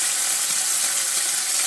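Ham frying in a pan gives a steady, dense sizzle with a constant hiss and faint crackle, close and even throughout, with no voices.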